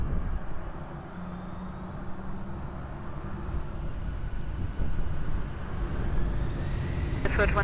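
An airliner taking off from runway 20 at Lisbon Airport, its distant jet roar building gradually and rising in pitch from far off, with no talking.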